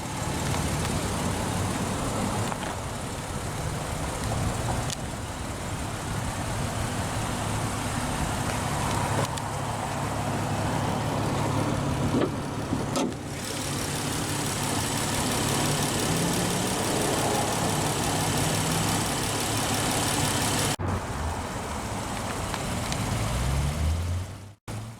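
The Pentastar 3.6-liter V6 in a 2019 Dodge Challenger GT idles with a steady, moderate engine rumble that holds unchanged for the whole stretch. Brief dips suggest edits, and no one speaks.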